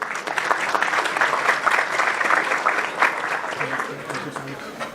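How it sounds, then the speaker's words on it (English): A crowd at a two-day entrepreneurship and innovation conclave claps steadily as a guest is welcomed onto the stage. The dense applause runs loud and unbroken for the whole stretch, then thins slightly near the end. "Let's welcome him with a huge round of applause."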